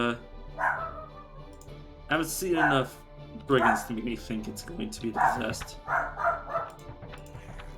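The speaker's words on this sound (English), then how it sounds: "The dog's going off on somebody." A dog barks repeatedly in Tales of Maj'Eyal, sharp yips scattered across several seconds beneath someone talking over them.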